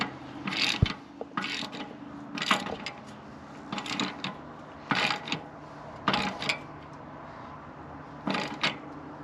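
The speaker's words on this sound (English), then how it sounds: "I like to put it on by hand a little bit before I tighten it with a tool." A hand tool tightening the threaded anode plug on an RV hot water heater, a repeated series of short ratcheting clicks at a steady pace, close and fairly quiet, with no talk.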